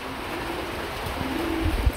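A pair of pigeons kept for sale coos in soft, low, throaty bursts, fairly close and steady against a faint background hum, with the calls growing a little stronger toward the end.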